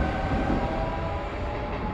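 A WKD commuter train in Warsaw pulls away from the platform, its steady, close rumble and rolling noise continuous throughout with no voices.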